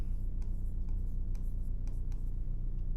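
Pen writing on a surface for a math proof in a classroom lesson on quadrilaterals: a soft, steady scratching with a few short strokes over low background hum, and no talk.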